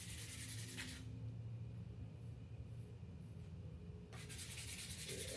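A surface is lightly scuffed by hand before painting, a soft continuous rubbing that swells at the start and end with a quieter stretch in between, with no talking.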